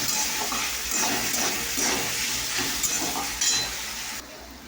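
Potatoes fry in oil with turmeric and salt while being stirred, producing a continuous sizzle with soft scraping strokes that rise and fall, fairly close and unaccompanied.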